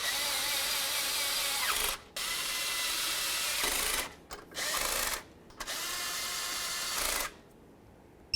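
A power tool runs in four steady bursts with short pauses between them, snugging the water pump bolts on a 1992–2000 Chevy Tahoe engine.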